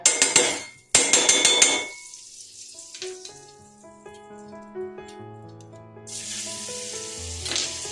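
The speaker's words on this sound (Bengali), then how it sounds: "কড়াই গরম হয়ে গেছে বন্ধুরা, এর মধ্যে আমি দিয়ে দেব এই 1 চা চামচ বাটার" A teaspoon of butter hitting a hot kadai gives loud bursts of sizzling that fade into soft crackling and tonal clinks, then a second fierce hiss swells near the end. No voices.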